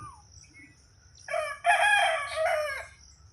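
A village rooster crows once, loud and close, its drawn-out call rising and falling over faint low background rumble.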